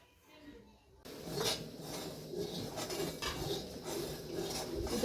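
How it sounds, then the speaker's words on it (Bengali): Puja plates and metal utensils clatter and clink as they are handled on a veranda during Janmashtami preparations, steady rattling of dishes after a quiet start, with faint voices in the background. "পুজোর থালা বাসন সব বারান্দাতে বের করে নেওয়া হয়েছে"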